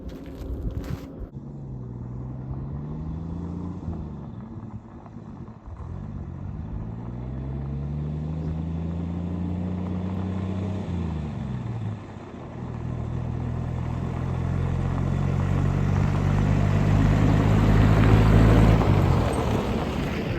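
A 1966 Chevy C10 shortbed pickup, last licensed in 1979, cranks briefly and its engine catches, then runs and revs up and down loudly close by, rising to a strong roar near the end.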